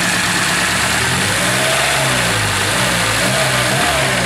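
A VAZ 2101 with a 1.7 engine and one cylinder misfiring runs loud and close, its engine revving up and down in uneven surges over a rough, pulsing idle, no talking.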